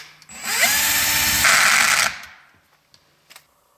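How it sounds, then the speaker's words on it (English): A power tool whirs up loudly for about a second and a half, tightening down a servo on a 1/4 scale 4x4 RC crawler, then winds down, followed by a few faint clicks. "So I tightened down the servo"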